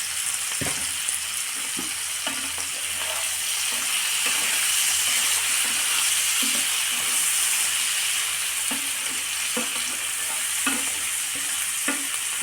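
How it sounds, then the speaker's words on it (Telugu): Onions, green chillies and paneer fry together in a pan, a steady loud sizzle with repeated scraping stirs of a spoon throughout, no voices. "పన్నీరు వేగాలి కాబట్టి అన్నీ కలిపి వేయించేసుకున్నాము."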